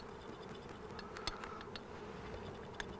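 Honey bees coated in powdered sugar are shaken inside a jar, giving a faint, steady insect buzz with scattered soft taps and ticks from the container.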